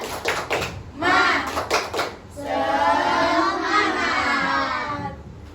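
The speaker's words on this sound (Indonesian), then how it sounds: "Tepuk semangat." Children in a classroom perform the tepuk semangat clapping routine, with quick rhythmic clap patterns between bursts of chanting voices, followed by a longer stretch of children's voices calling out together.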